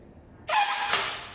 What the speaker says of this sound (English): I can easily also get them off using the compressor